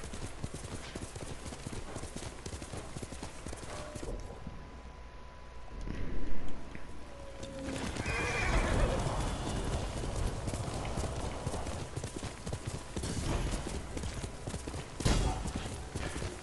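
Hooves clip-clop steadily on hard ground throughout in the video game Ghost of Tsushima, close and rhythmic, with a brief swell of louder movement midway and a faint whinny-like sound.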